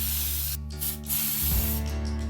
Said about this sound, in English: We apply 2 coats of primer and then 2 of color.